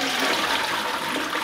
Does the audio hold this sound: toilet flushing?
yes